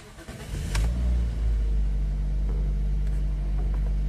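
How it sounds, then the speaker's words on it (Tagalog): A Toyota Vios engine cranks and catches, then settles into a steady idle with a deep, close hum. The start is brief and the running engine continues alone without voices. "Start ko na nga itong makina."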